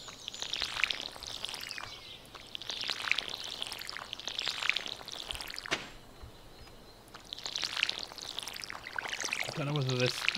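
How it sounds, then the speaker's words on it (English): Splashing, pouring water effects from watering planted crops in the farming video game Stardew Valley, repeating in several bursts with brief pauses, under a speaking voice and light game background sounds. "So now we water everything."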